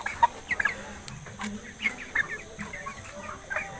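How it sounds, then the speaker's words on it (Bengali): Broiler chickens clucking at a poultry farm on a hot day, scattered short clucks and squawks from several birds, moderately close over low background noise. "মুরগিগুলো খুব ভয় পায় গরমের ভিতরে মুরগি চঞ্চল থাকে বেশি"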